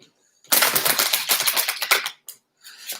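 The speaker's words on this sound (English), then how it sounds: "So just a couple more card decks here to shuffle up" Tarot card decks riffle-shuffled by hand, a dense burst of crisp, fluttering card snaps lasting over a second, followed by a few shorter riffles, close and fairly loud.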